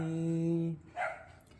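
A single dog bark, short and sharp, heard close by right after a sustained humming tone fades out.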